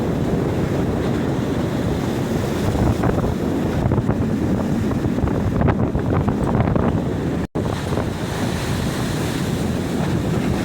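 Strong Pacific ocean waves surging and crashing continuously at sea, heard from a boat, with heavy gusting wind buffeting the microphone throughout and no pause in the roar.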